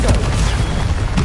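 A loud, booming burst from a Confringo blasting spell in Hogwarts Legacy, a dense rumbling blast filling the moment close up, with no talking over it.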